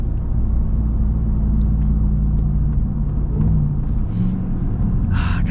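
A Ram TRX pickup with a supercharged Hellcat V8 engine, heard from inside the cab: a deep, steady engine rumble swelling slightly, loud and continuous, with faint clicks near the end.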